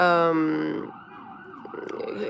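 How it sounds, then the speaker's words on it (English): An emergency siren wails loudly with a steady, drawn-out tone, then fades away into quieter street noise. "Sirens, yes"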